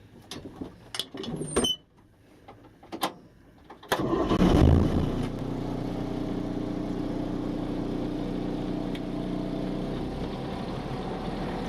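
A truck's diesel engine cranks and fires during a pre-trip inspection, after a few sharp clicks and knocks in the cab, then settles into a steady, loud idle that drones on to the end.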